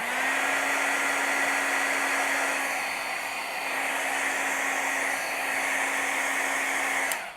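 Handheld heat tool melting embossing powder on cardstock, a steady close whirring blow with a constant motor tone, running unbroken for several seconds before cutting off at the end.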